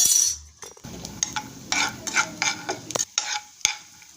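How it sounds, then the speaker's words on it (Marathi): Cashews frying in half a spoon of ghee in a small pan, with bursts of sizzling and repeated scraping stirs, plus a few light metallic clinks of a spoon against the pan. "आता मी अर्धा चमचा तूप घेतेय आणि त्यात हे काजू तळून घेतेय।"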